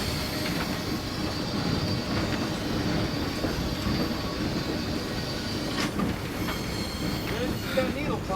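Steam locomotive at Northern Nevada Railroad starting to move, a steady rumbling mechanical roar with hissing and a few metallic squeals and clanks near the end, with people talking faintly.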